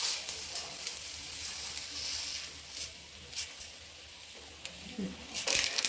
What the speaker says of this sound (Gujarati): હવે આપણે બેટર મિક્સ કરેલું નાખશું આની અંદર